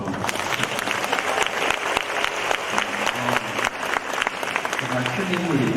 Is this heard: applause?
yes